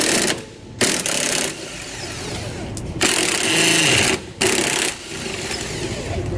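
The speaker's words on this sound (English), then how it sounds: "To remove these old bolts, we're going to use a 13/16 wrench and an 11/16 socket" Steel trailer nuts being worked loose with a 13/16 wrench and an 11/16 socket on an old tandem axle equalizer, giving a steady mechanical ratcheting whir that runs in bursts with brief pauses, loud and close with no talk.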